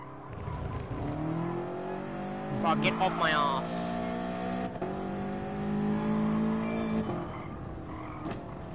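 A car engine revs and drones steadily in Gran Turismo Sport, flames spitting from the exhaust as it heats up, while someone talks over it throughout.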